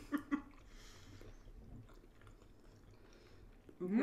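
Soft, wet chewing and squishing of rhubarb jello shots close to the mic, a few quick bites at the start followed by quieter mastication, with a brief voice or noise rising at the end.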